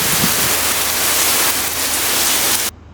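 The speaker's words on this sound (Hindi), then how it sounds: "और यहाँ पे तो बारिश होने लगी।" Heavy rain falls in a steady, loud hiss close by, then cuts off abruptly near the end.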